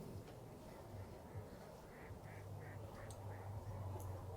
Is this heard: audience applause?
no